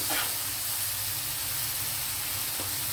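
Tomatoes sizzle as they fry in a pan with browned onions, giving a steady close hiss that runs unbroken with no voices.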